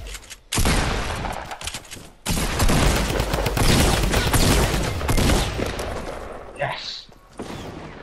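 Heavy gunfire in the video game Fortnite, loud sustained bursts of rapid shots that start abruptly, roll on for several seconds, then thin out into a few scattered reports and brief gaps.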